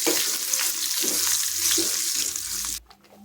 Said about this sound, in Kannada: ಇದಕ್ಕೆ ಸಾಸಿವೆ ಸೇರಿಸಿ ಜೊತೆಗೆ 1 ಮೆಣಸಿನ್ಕಾಯಿ ಹಾಗೆ 5 ರಿಂದ 6 ಬೆಳ್ಳುಳ್ಳಿ, ಸ್ವಲ್ಪ ಕರಿಬೇವನ್ನು ಸೇರಿಸಿ ಚೆನ್ನಾಗಿ ಹುರ್ಕೊಳ್ಳೋಣ.